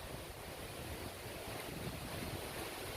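Strong wind roars steadily over a Philippine coastline, a dense broadband rush with the sound of waves folded in, buffeting the microphone throughout with no voices.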